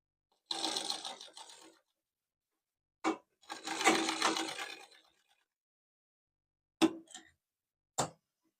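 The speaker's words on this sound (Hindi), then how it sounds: "एक और सिलाई लगाएं।" Sewing machine stitching blouse fabric, running in two short bursts of rapid needle chatter separated by silence, followed by a few single sharp clicks, close and clear.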